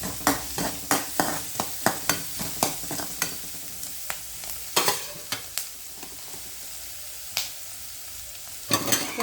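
Onion frying until red in a pan for an okra fry sizzles steadily under quick, repeated stirring knocks and scrapes, close and fairly soft, with no talk.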